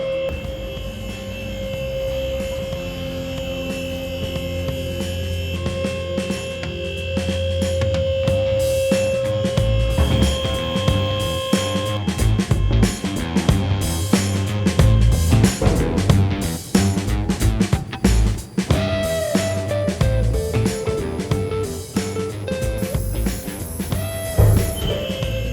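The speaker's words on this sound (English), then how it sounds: "And now we can raise the loading dock." Hydraulic loading dock leveler at a warehouse dock position being raised after a fault bypass, a steady mechanical hum and motor drone building over about 25 seconds with shifting tonal whine and clunks, no talking.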